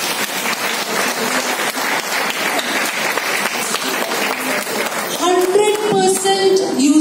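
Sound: applause

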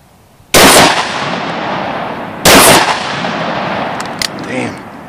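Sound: 12 gauge sawed-off coach shotgun firing slugs

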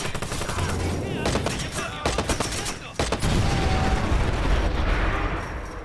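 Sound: gunfire in a video game

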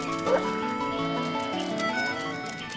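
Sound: dogs herding bleating sheep

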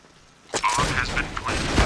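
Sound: bomb being planted in Counter-Strike: Global Offensive video game

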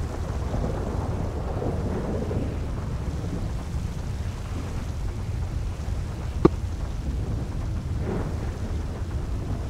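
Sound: rain and thunderstorm in video game GTA 5

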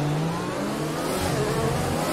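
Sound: car engine revving in F1 2020 video game

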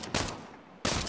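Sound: gunfire in video game Saints Row

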